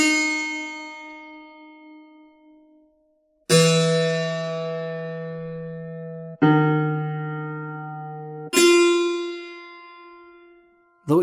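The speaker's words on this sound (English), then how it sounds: "This is the sound of the historical harpsichord." Plucked harpsichord notes and chords, bright and metallic, each attack ringing then fading, struck a few seconds apart with no talking.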